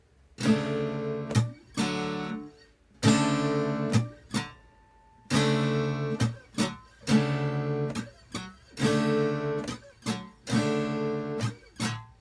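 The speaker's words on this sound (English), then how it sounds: "it's just kind of muting the strings as we move down" Muted guitar strums in a steady down-up pattern, each chord choked short, repeating in bursts with brief silent gaps between.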